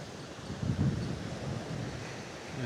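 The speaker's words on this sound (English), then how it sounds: "So the surf comes up about this time in the afternoon." Afternoon ocean surf rolls onto a beach, with low swelling wave rumbles mixed with wind buffeting the microphone and no voices.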